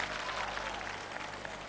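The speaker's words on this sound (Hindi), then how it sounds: "एक बार तालियां बजाइए" Crowd at a Bharat Swabhiman Yatra gathering claps for a student's question, a brief faint wash of applause heard from a distance.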